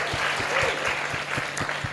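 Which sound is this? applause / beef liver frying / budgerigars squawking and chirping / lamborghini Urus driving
applause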